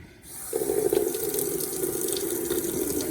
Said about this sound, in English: I'm going to go ahead and turn on the water so it's going to be loud.